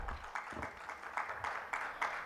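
Applause from a conference audience, a brief burst of clapping at moderate distance that swells and rises in uneven pulses.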